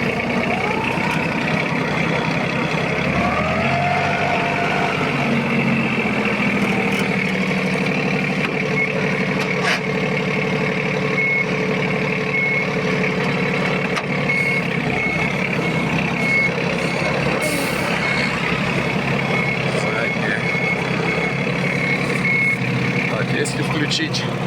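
Yanmar F155 15-horsepower Japanese mini tractor with rotary tiller running in reverse gear, a steady close engine drone with a persistent high whine and shifting tonal hum, while someone talks.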